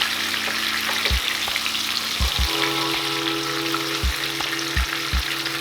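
Speckled trout fillets sizzle steadily in a hot pan, a loud continuous crackle with a few low knocks and clunks from the pan, and no talking.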